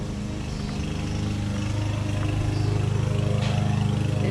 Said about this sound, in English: This would be the last day we're mowing the yard